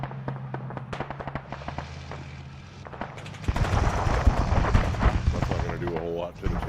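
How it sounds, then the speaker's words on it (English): Helicopter guns fire at a tank in a military combat video game, with rapid bursts crackling steadily and growing denser and louder in the second half, layered with ambient battle noise while players talk over it. "Mohawk's trying to hit it with guns."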